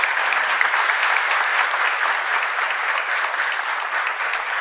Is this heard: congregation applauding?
yes